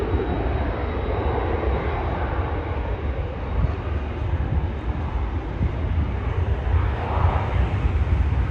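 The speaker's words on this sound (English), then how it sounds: "Air Canada, Airbus 320 going to Montreal." An Air Canada Airbus A320 airliner departs Toronto airport for Montreal, a loud, continuous jet engine roar that stays steady and near for the whole stretch, with no voices over it.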